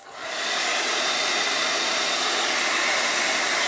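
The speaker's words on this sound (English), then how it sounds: "And I'm drying both because I don't want any wet paste smudging where I don't want it." A hair dryer on its cool setting blows steadily over wet chalk paste on a craft transfer, spinning up at the start and then holding a loud, even whoosh close to the mic, with no talk.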